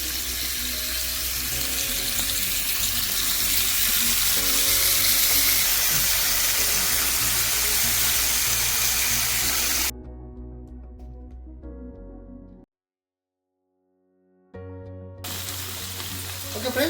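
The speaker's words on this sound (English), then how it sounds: "So now I'm going to use bacon and pepperoni on the same grill." Bacon and pepperoni fry together on a burger grill, a loud continuous sizzle close by that drops away near the end, cuts to near silence, then returns briefly.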